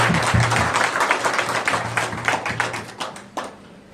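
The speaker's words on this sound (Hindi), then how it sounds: "माननीय गोभक्त चंद्रकांत जी के लिए मैं चाहता हूं एक जोर तालियों से।" A crowd at a cow-devotion religious discourse and aarti claps loudly and near, a thick burst of applause that gradually thins into scattered claps before trailing off.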